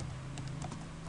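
A few soft, quick keystrokes land on a computer keyboard as C code is typed, faint over a low steady hum.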